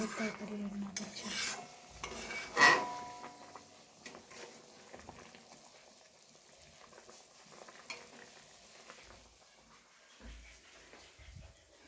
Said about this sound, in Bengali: ওইদিকে আমি সয়াবিন আলুর তরকারি রান্না করছি